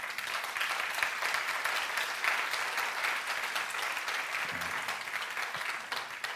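An audience applauds steadily, a dense wash of many hands clapping at a fairly even level throughout, heard from within the room.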